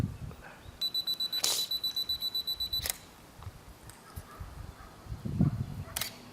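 A camera beeps rapidly while focusing, then the shutter clicks open for a long exposure HDR shot and closes about a second later; quiet room noise and faint movement follow.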